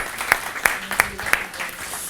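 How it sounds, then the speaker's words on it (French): A few sparse, evenly spaced hand claps ring out in a French oral implantology conference hall for Marie-Claude Furic, set against a low room murmur. "on applaudit Marie-Claude Furic, très fort"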